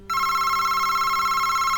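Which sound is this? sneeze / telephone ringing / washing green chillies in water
telephone ringing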